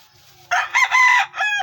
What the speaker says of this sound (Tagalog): ang akong buhi diri manok